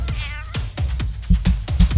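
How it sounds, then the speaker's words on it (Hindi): A cat meows repeatedly in an animated cartoon, a series of short, loud, close meows in an irregular rhythm, with a brief rising whistle-like tone early on. "ये बिल्ली यहाँ क्या कर रही है?"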